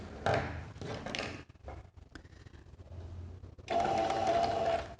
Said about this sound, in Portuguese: Eu gosto de começar a costurar sempre pelas emendas assim.